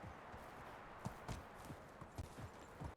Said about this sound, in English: I'm trying to trample a kid with a horse here.